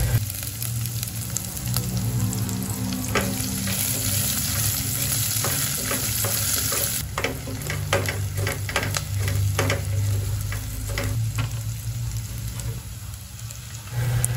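Ginger, garlic and onion fry in a pan for chicken adobo, a continuous close sizzle with rapid clicking stirring strokes throughout and no talking.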